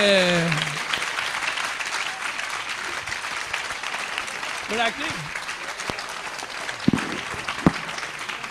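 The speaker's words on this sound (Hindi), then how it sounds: "तालियां बजाइए इनके लिए।" An audience claps through a devotional storytelling programme about the childhood of Chaitanya Mahaprabhu, moderately loud continuous clapping with a voice heard briefly over it and a few sharp thumps.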